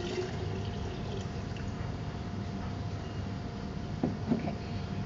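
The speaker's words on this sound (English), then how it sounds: "we're going to transfer this coconut water into our glass container" Coconut water is poured from a fresh coconut into a glass container, a steady wet splashing and trickling stream close by, with a couple of brief clinks near the end.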